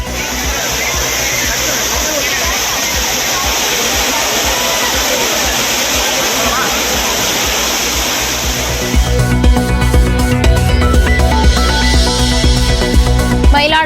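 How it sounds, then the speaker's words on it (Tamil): Water roars down the Courtallam waterfalls, crowded with holiday visitors, as a loud, steady broadband rush for about nine seconds before a different, busier sound abruptly takes over. "குற்றால அருவிகளில் ஆர்ப்பரித்து கொட்டும் நீர்."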